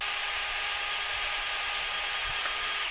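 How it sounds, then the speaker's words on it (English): A power drill with a small bit bores a pilot hole into a welded steel part of a custom backhoe, a steady high whine running close and constant before cutting off abruptly at the end. "Gonna pre-drill it with a small bit first, a little pilot hole."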